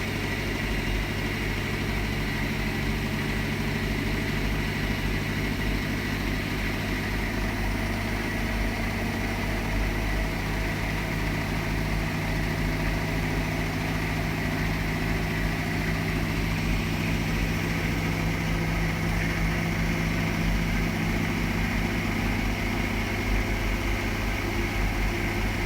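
A Hotpoint HE7L492 washing machine runs a Cotton Standard 20 wash on a load of darks, giving off a steady low hum and rumble that stays constant throughout.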